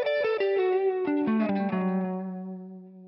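A melodic descending guitar run played through effects, with clear stepping notes falling in pitch, shimmering and sustained, ending on a long ringing note that fades out alone.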